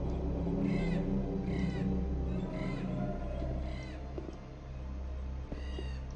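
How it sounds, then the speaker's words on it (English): Ravens caw in the video game Gothic 1, about five harsh calls spaced roughly a second apart over a low ambient rumble, with no talking. "Ravens."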